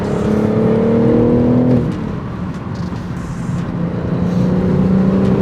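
A 2021 BMW M4 Competition straight-six engine pulls hard under highway acceleration, its steady drone rising in pitch, then dropping briefly at a gear change before climbing again.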